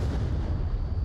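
A frag grenade going off in the VR shooter Onward during a competitive match, a single dense, booming rumble heard close and loud, filling the whole second with low roar.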